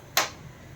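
A single sharp snap from a gas stove igniter as the burner under a clay cooking pot is switched on, close and crisp, then quickly fading into quiet.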